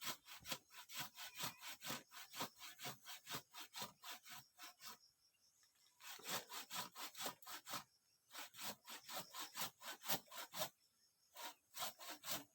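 A hand saw cuts through wood in rapid rhythmic rasping strokes, with a couple of short pauses between bursts of sawing.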